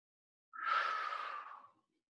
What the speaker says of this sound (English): Can you hear yourself breathing?